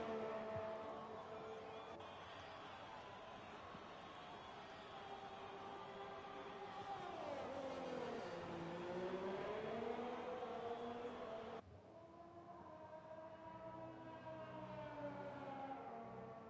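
F1 race car in F1 2020 during Russian Grand Prix qualifying on soft tyres, engine note whining steadily, dipping and rising through gear changes, then switching to a different car's pitch; faint, no talk.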